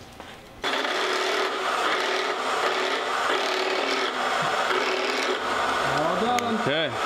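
A drill bores a large hole through a metal flange for a turbo rotary minibike build, a loud continuous grinding rasp starting sharply after a short pause, ending with the bit's pitch sliding and wobbling as it slows.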